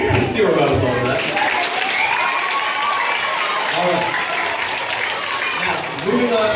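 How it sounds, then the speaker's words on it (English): A crowd at a sports awards event applauds steadily and loudly for several seconds, a dense unbroken wash of clapping. "give her a round of applause for that"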